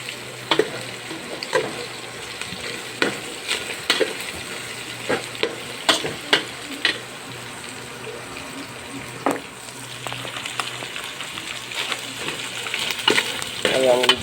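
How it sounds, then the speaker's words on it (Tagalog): Chicken breast, shredded carrot and lomi ingredients being sautéed in a pan, with steady frying sizzle and repeated sharp clinks and scrapes of a utensil stirring, close and moderately loud, no talking. "Gisa-gisa lang siya guys."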